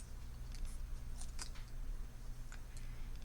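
Scissors cut a sticker at an angle, giving a few faint, sharp snips over a quiet, steady low hum.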